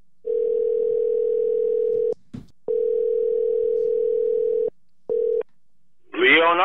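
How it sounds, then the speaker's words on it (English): A steady telephone dial tone rings out on a call to a podcast guest, broken by a couple of short gaps and a click, then a brief voice cuts in at the end. "we are going to get Mike on the phone"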